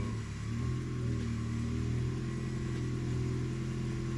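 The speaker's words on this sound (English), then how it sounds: "So it does sound like it sounds like a V8 for some reason." A Subaru BRZ engine idles after a fresh clutch install, giving a steady, even low rumble that holds close and unchanged throughout with no voices.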